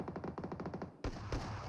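MG3 machine gun fire in the battle royale game BGMI, a rapid steady burst of evenly spaced shots for about a second, then a sharper louder blast and a brief further volley, moderately quiet overall.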